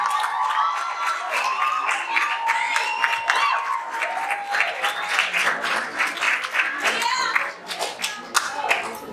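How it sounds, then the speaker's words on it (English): An audience claps and cheers to welcome a keynote poet onto the floor at a talk on water in Africa, steady applause throughout with a few voices rising over it. "allow me to welcome our keynote speaker by raising up, by clapping your hands"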